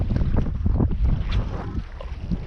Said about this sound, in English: Insanely windy day.